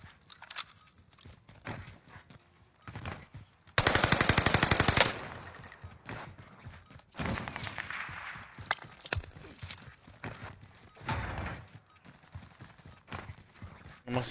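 Automatic machine gun fire in Call of Duty Warzone: a loud, rapid burst lasts about a second and a half, set among scattered quieter gunshots, footsteps and game effects.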